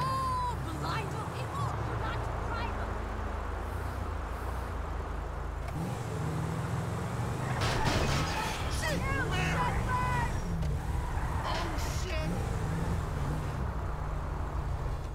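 Car engine running and revving while driving in Grand Theft Auto V, a steady loud motor drone with shifting pitch, under in-game voices and background chatter.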